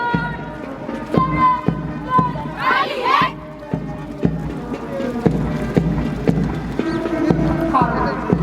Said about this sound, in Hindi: एड़ी पर चोट करते हुए कदम से कदम मिलाते हुए सटे हुए कदमों से आगे बढ़ते हुए